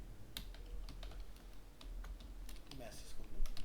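Someone types code on a computer keyboard in a series of irregular, sharp key clicks, close and moderately loud, while a voice speaks quietly underneath.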